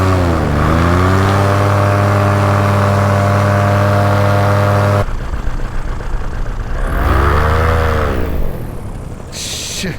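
A paramotor engine drones loudly and steadily while landing, then abruptly cuts out before surging back with a brief rising-and-falling rev, close and dominant with wind noise around it.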